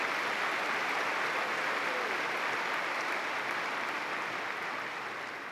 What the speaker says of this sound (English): Let's have a final round of applause for all these university leaders